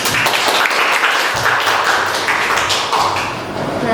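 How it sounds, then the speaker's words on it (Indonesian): A crowd at a school podcast session claps steadily for a few seconds, a dense patter of hand claps with no voices over it. "Tepuk tangan dulu dong"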